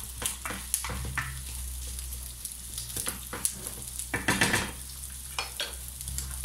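Tomatoes go into a frying pan for Filipino ginisang munggo, sizzling softly as a utensil stirs and scrapes against the pan in short irregular clatters, quiet and close.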